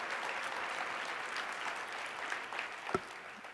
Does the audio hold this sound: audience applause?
yes